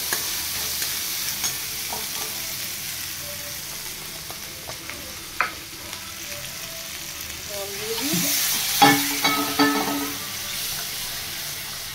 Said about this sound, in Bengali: এই ছোলার ডালের মশলা কষানো চলছে